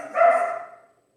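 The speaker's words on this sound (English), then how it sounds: "I apologize for the barking dogs." A dog barks, a single short burst close by, with no other dogs or voices; it happens during a yoga session.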